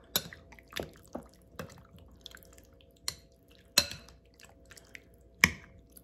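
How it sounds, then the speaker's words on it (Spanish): Reserved water poured into a pan of sweet-and-sour chicken, heard as a few sharp drips and splashes spaced irregularly over quiet background, close and fairly soft. "Vamos a agregarle acá el poquito de agua que habíamos reservado."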